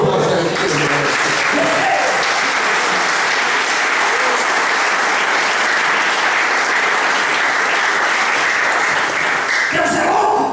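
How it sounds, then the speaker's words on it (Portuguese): A church congregation bursts into loud, sustained applause, dense clapping and cheering filling the room for about ten seconds before cutting off, with voices mixed in beneath. "Dá uma aplauso aí."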